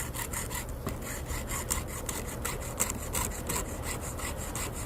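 Chainsaw chain being sharpened with an Oregon sharpener, a steady rhythmic rasping of repeated filing strokes, close and even throughout without speech.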